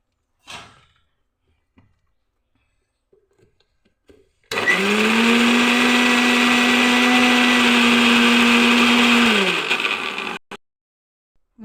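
A mixer grinder blending green chicken masala, starting abruptly and running as a loud, steady motor whine for about six seconds before winding down and stopping, with near silence on either side.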